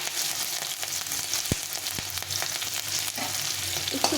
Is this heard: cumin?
yes